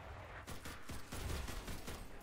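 Rapid M1 carbine gunfire in a video game, a dense run of sharp shots crackling close and loud for a couple of seconds with no talking.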